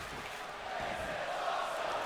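An arena crowd in the wrestling game WWE 2K24 chanting "this is awesome" during a match: a dense, sustained roar of many voices, rhythmic and distant, swelling slightly partway through.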